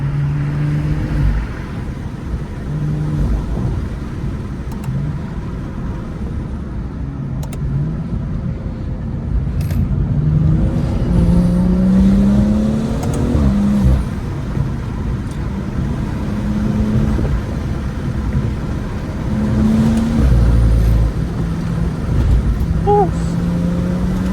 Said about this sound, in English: Man, the car runs amazing.